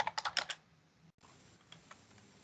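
A short burst of quick, crisp keystrokes on a computer keyboard, about eight close taps in half a second, then near silence with a couple of faint clicks.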